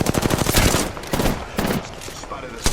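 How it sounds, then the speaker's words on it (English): Rapid automatic fire from an R301 rifle in Apex Legends, a loud fast burst of shots at the start, then scattered bursts and game effects, with a voice talking over the gunfire. "I really like this R301. Very accurate, fire rate's good. It just melts."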